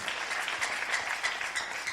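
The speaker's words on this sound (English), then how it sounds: "Please clap with fire." A luncheon audience at a district officers' gathering claps steadily, producing a dense, even patter of applause that is moderately loud throughout the short stretch.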